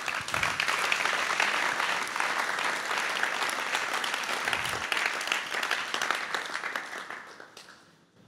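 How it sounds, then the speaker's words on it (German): An audience at a Christian men's conference hall applauds steadily and densely for several seconds, a broad wash of many hands that fades out at the end. "Ein Applaus."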